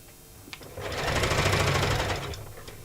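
A sewing machine stitching a handbag runs in one steady burst, a fast even mechanical whir that starts softly, swells loud and close for about a second and a half, then eases off.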